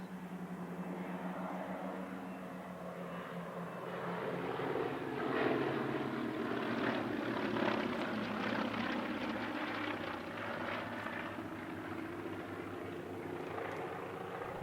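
A large formation of CAC Wirraway warbirds flies past at an airshow, with a steady, distant propeller-engine drone that swells slightly mid-pass and stays moderately loud throughout.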